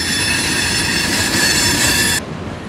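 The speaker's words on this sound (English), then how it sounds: "The 1215 is shuttling loaded rock from Medley Yard to Hialeah Yard" Florida East Coast Railway freight train shuttling loaded rock cars between Medley Yard and Hialeah Yard, a loud, close, continuous rolling rumble with a high, sustained wheel squeal that cuts off abruptly near the end.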